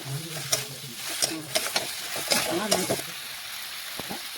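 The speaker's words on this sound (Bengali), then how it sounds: "এখন সমস্ত কিছু একসাথে ভালোভাবে মশলার সাথে মিশিয়ে একটু কষিয়ে নেব।" Steamed cauliflower is stir-fried with spices in a pan, sizzling up close under scraping and tossing strokes that fade near the end.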